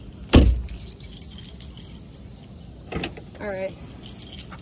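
A set of keys is pulled from a pocket, giving one sharp jangle near the start followed by softer metallic rattles, with a brief spoken word and faint car-interior noise around it.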